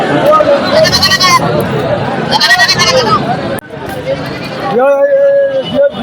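Goats bleating at a busy open-air goat market, several loud nearby bleats overlapping with crowd chatter and someone talking close by.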